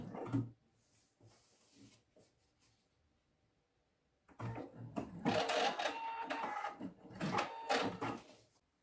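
A sewing machine stitches an X on a leather case, starting with a few scattered mechanical clicks, then running in a rapid, rattling burst of stitches with short pauses, close and fairly quiet.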